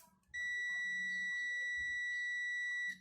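A multimeter's continuity beep sounds while probing components on an electronic circuit board: one steady, high electronic tone lasting about two and a half seconds, clear and alone, starting and stopping sharply.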